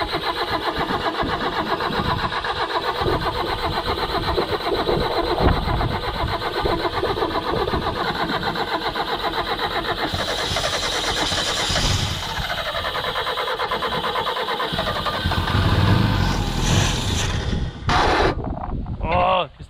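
A Simca 1100 car engine being cranked over and over as it struggles to start, a continuous loud rhythmic churning that surges and sputters toward the end, with no speech.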